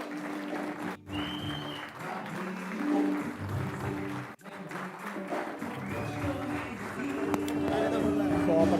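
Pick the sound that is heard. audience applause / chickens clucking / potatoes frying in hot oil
audience applause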